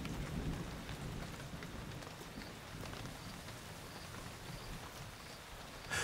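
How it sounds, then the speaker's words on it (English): Steady winter rain falls around a riverside camp in Botswana, a dense, even hiss of drops on surfaces with faint low rumbles underneath and a brief louder patter near the end. "Winter rain is unusual in Botswana."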